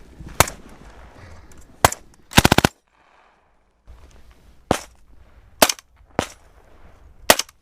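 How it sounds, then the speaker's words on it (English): Rifle shots crack sharply during cold-weather military training at minus 20 degrees Celsius, loud separate reports including a quick burst of three, spaced irregularly with a brief silent gap. "Prepare for rapid! Prepare for rapid! Rapid fire! Rapid fire!"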